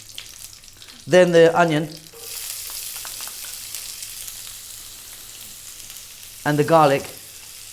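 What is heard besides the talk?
curry leaves, onion and garlic frying on high heat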